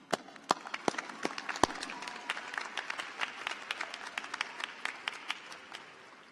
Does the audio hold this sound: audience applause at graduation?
yes